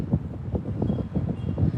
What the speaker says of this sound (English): But you can hear the wind. It's kind of windy.